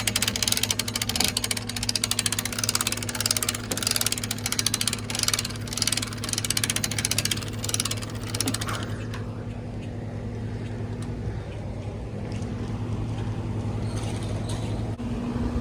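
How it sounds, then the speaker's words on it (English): A new winch on a boat trailer cranks a Carolina Skiff 16 forward. It gives a steady mechanical ratcheting clatter for about eight seconds, then drops to a quieter continuous hum. The sound is close and has no talk over it. "Let's see what this new winch can do."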